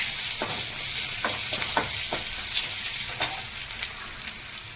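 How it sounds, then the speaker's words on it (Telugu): Small onions fry in a pan with asafoetida for a lentil-based kandi pappu charu, a steady loud sizzle broken by several scraping spoon strokes as they are stirred, no talking. "చిన్న ఉల్లిపాయ వేసుకుందామండి. ఒకసారి కలుపుకొని"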